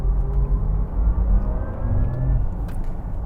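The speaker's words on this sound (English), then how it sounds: "the acceleration on this is just absolutely incredible" A Porsche Taycan Turbo electric sedan accelerating, a steady low rumble of road and tyre noise with a faint rising electric whine, close and continuous without voices.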